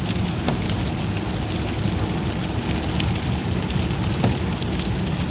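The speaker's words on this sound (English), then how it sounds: "you get to drive around with me during the rain" Rain falling while driving a car on New Year's Eve, a dense steady patter on the vehicle with low road rumble underneath and occasional sharper drop hits, constant throughout.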